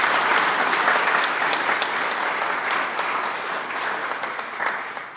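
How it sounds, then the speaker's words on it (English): An audience applauds at a golf learning center dedication ceremony, a dense, even wash of clapping from many hands that holds steady for several seconds before easing slightly at the end. "We can clap for those guys."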